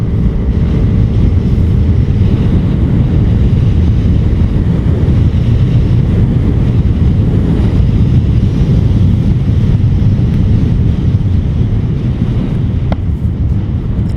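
Yamaha Aerox 155 maxi scooter with VVA engine riding at about 80, heard as steady, loud wind rush and road roar buffeting the microphone throughout, with no talk.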